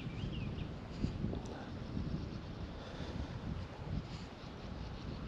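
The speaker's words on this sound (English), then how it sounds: "It's a fair wind that's blowing." Wind blows by the River Ayr in Scotland on a spring day, a low, steady rumble and buffeting across the microphone without pause.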